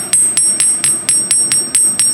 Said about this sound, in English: I'm going to get my hammer with a little flat end here, and I'm just going to start tapping on the arc